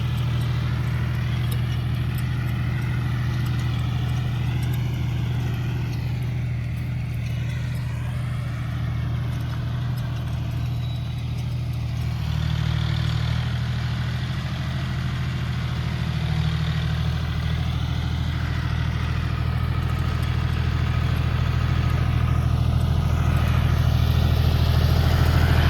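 A tractor engine rumbles steadily in a potato field while it works the soil with a planker, a continuous low, droning run that swells slightly louder toward the end.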